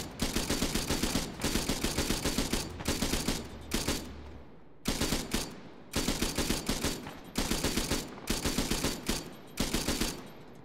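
Automatic gunfire in the military shooter game ARMA 3, loud close bursts of rapid rounds repeating in a steady rhythm with brief gaps between volleys, no talk.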